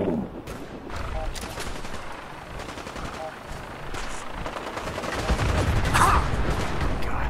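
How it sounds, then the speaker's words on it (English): Gunfire from the video game Fallout 4, rapid bursts of shots crackling through a busy, dense mix, growing louder and heavier toward the end with a sharp burst near the close. "God, I'm being shot at"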